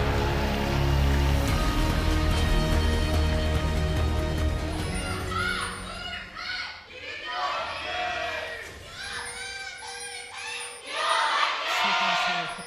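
Esports crowd cheering at a 2017 LCK Summer Split match between SKT T1 and BBQ Olivers: a broad, sustained roar of many voices that swells and surges, mixed with arena music and nearby talk.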